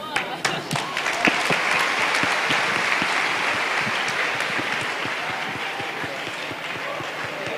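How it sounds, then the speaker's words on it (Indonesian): Warm applause from a large university audience for a government minister at a new-student campus orientation, dense and sustained, fading slightly over several seconds with a voice briefly over it. "Tepuk tangan yang meriah untuk Bapak Menteri atas materinya yang luar biasa sekali."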